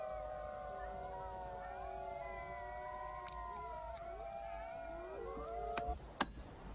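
A wolf pack howls together in layered, overlapping long tones that rise and bend downward, sustained across the clip at moderate distance, with a few sharp knocks near the end.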